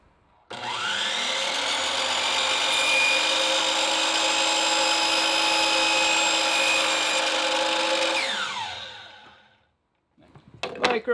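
A power tool cuts a Delrin plastic boat liner to length, a loud steady whining drone with a strong tonal hum, running alone for about eight seconds before spinning down, then a few brief knocks and handling clatters.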